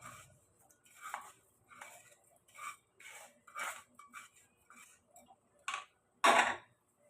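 Flour, oil and dal being mixed in a bowl with a spoon, a series of soft, irregular clinks and scrapes about once a second, quiet and close, ending in a louder knock.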